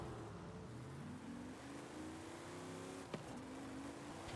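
Pontiac Trans Am launching, its engine rising in pitch through gradual shifts in a steady, sluggish drone with a brief click midway, heard at a moderate distance without voices.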